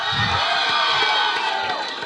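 A college audience cheers and whoops loudly, a dense continuous roar of voices with a few thumps beneath, short and at full level.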